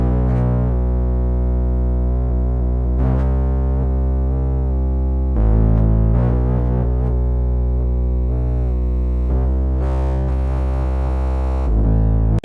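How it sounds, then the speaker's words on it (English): A heavily distorted, buzzy synth bass plays a root-note pattern, loud and dense with a raspy, evolving top end and a few note changes across the span, with no talking. "I grabbed this buzzy bass from Cadet"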